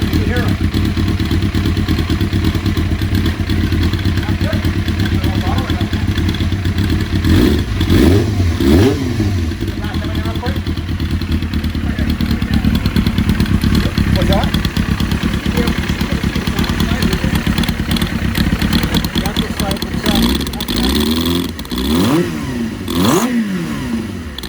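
A race motorcycle engine, with flat-slide carburetors, on a Honda RC30 or Kawasaki ZX-7RR race bike, idles and blips through several revs that rise and fall in a workshop, loud and close, with people talking over it.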